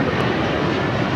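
A jet airliner departing Los Angeles LAX roars loud and close, a dense broadband engine rumble held steady through the brief moment with no other sounds standing out.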